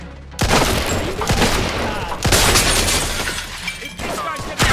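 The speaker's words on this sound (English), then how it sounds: "Get on that machine gun!" Machine gun fire in the Mafia II video game comes as loud, close bursts of rapid automatic shots, with several sustained volleys separated by brief dips.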